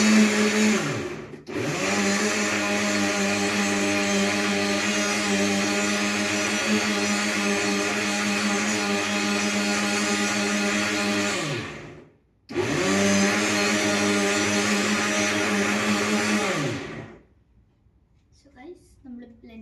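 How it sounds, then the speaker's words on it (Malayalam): A blender whirs loudly and steadily while mixing an Oreo milkshake, runs for about ten seconds, cuts out briefly, then runs again for several more seconds before stopping into near silence. "നമ്മൾ ബ്ലെൻഡറിലിട്ടിട്ട് നമ്മുടെ ഷേക്ക് റെഡി."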